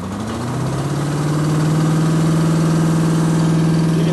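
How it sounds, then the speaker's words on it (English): Blower engine on a mosquito control truck starting up, a loud, steady mechanical drone with a strong low hum that swells quickly and settles into a constant, vibrating roar. "right now, Roger's going to start the blower up"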